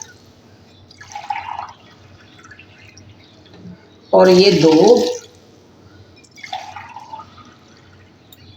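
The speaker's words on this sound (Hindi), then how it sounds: "और ये मैंने इसमें 3 गिलास पानी डाल दिया।" Water from glasses pouring into a pressure cooker for beef yakhni, a loud splashing burst in the middle with shorter pours before and after, while someone talks.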